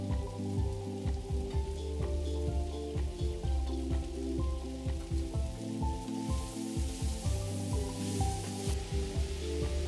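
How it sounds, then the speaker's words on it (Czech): Sugar caramelizing in a pan while cooking a Czech svíčková sauce, giving a steady, fairly close sizzle with dense crackling and a low bubbling hiss that runs continuously without talk. "Po chvilce přidám cukr, který nechám skaramelizovat."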